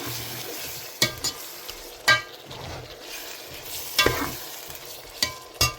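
Tomatoes sautéing in a pan, a soft continuous sizzle broken by several sharp scrapes of a spoon stirring against the pan, fairly close and with no talking.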